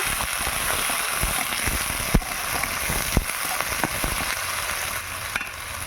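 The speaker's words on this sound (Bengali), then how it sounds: "এবার কড়াইয়ে দিয়ে দিচ্ছি তেল এবার দিয়ে দেব কুচিয়ে রাখা আলু কাঁচা লঙ্কা আর পেঁয়াজ অল্প করে একটু ভেজে নেব" Chopped potato, green chilli and onion fry in oil in a wok, making a steady close sizzle broken by small crackles and a few sharper pops.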